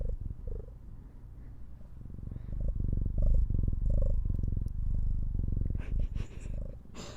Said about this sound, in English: And that is cat ASMR.